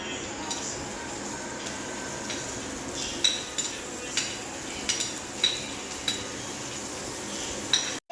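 Garlic and onion sauté in a pan with a steady low sizzle, broken by repeated sharp scrapes and clinks of a spoon stirring against the pan.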